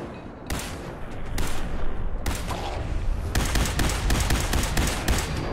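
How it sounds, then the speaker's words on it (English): Rapid gunfire from the Fallout 4 video game, loud and close, with dense volleys of shots and bursts that run almost continuously. "Let me see if I can get him with some leg shots."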